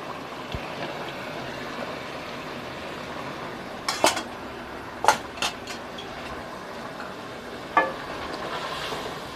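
A spoon scrapes and knocks against a pot while yogurt is mixed into chicken korma, giving a few sharp metallic clinks over a quiet background.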